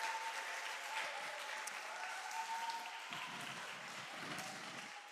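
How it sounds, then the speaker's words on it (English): An audience at a national reading competition on radio gives participants a steady round of applause, the clapping fairly faint and distant with a faint tone and a little crowd murmur beneath. "let us give them a big round of applause"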